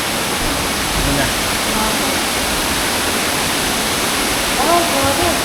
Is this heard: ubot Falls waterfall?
yes